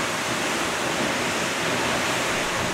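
Háifoss waterfall in Iceland roars in a loud, dense, unbroken wall of falling water, constant and close for the whole moment.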